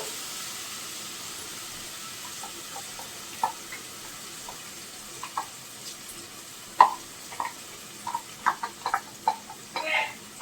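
Masala and mixed green vegetables frying in a pan, a low steady sizzle with scattered sharp clicks and spatters growing busier toward the end, fairly quiet and close.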